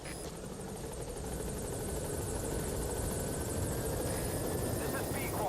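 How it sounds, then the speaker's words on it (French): A helicopter arrives in Metal Gear Solid V, its rotor drone steady and fairly loud throughout, with a voice speaking over it. "je vais appeler vite fait l'hélicoptère"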